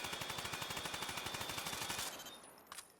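Rapid automatic gunfire while strafing in the video game Off The Grid: a steady burst of evenly spaced shots for about two seconds, then it stops and a brief fainter rattle follows.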